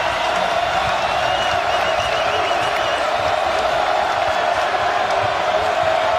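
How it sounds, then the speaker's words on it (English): A basketball arena crowd at a Duke at Miami men's college game roars and cheers loudly and continuously, a dense wall of whoops and shouts with no pauses. "Crowd loves it, Sean."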